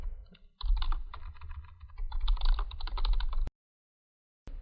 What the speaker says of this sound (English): you can type in a question that you have